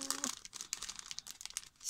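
Plastic product packaging for diamond painting and cross stitch kits crinkles and rustles in quick, close bursts during an unboxing, with a brief tone at the start.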